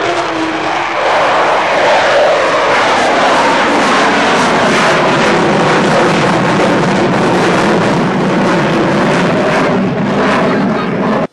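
An Avro Vulcan jet bomber roars loudly overhead, its engine noise sustained and broad, swelling and then holding at full volume.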